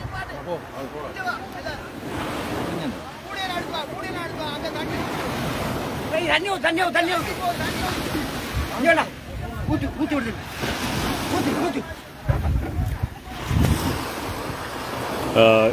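Sea waves wash onto Kalladi beach, surging and receding in uneven swells mixed with wind buffeting, while several people talk and call out over the surf throughout.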